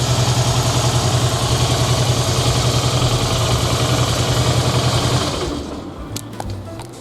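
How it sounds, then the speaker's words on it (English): A Harley-Davidson motorcycle engine cranks weakly in winter cold on a tired battery. Loud, steady churning pulses run for about five seconds, then cut off, leaving a quiet tail with faint clicks. "Obviously the cranking is kind of weak, so it's time for me to change the battery."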